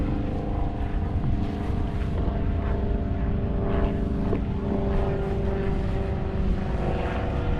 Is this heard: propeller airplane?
yes